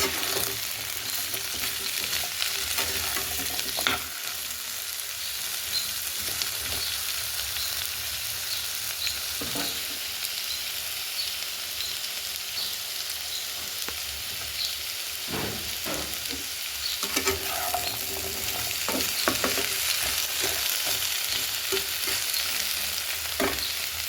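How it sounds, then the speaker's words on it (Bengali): Diced potatoes fry in a pan for aloo posto, a continuous close sizzle broken by repeated scraping and clinking stirring strokes, with no voices. "এইভাবে ভাজতে থাকবো আলুগুলো"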